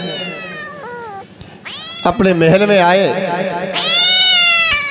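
Loud, close meowing that a voice may be imitating, in rising and falling wavering cries, over a steady low hum at a lively devotional storytelling gathering. Speech runs through it.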